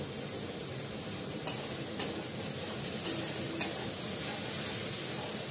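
Meat cooking in released oil in a pan, frying into a curry with yogurt, gives a steady close sizzle throughout, broken by a few sharp spatters and light stirring clicks, with no voices.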